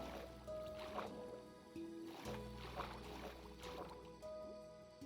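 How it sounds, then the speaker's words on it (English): Water flows steadily in a video game, a soft continuous gurgling rush that stays faint and even throughout, with a few brief tonal game sounds over it. "What is that flowing water?"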